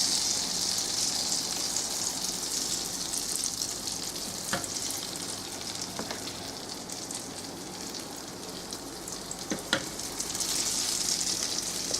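Nigerian akara bean cakes fry in very hot oil, giving a steady, loud hiss and sizzle with scattered pops and occasional sharp crackles across the whole stretch, no talking.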